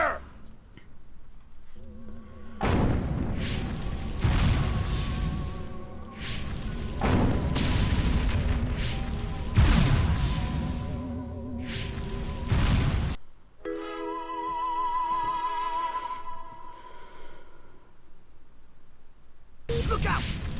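Military gunfire and explosions in the video game Destroy All Humans!, a dense run of booms and crashes with game voices and music over and under them, falling to quieter tonal sounds near the end.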